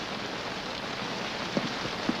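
Steady rain falls in a soft, even hiss, with a couple of faint heavier drops standing out near the end and no voices.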